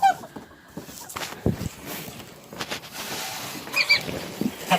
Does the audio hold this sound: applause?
no